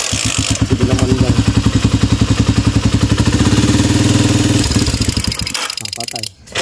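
A Euro 125 motorcycle runs with a rapid backfire setup, giving a loud, close, fast pulsing engine chatter that steadily pops and rattles before fading out near the end.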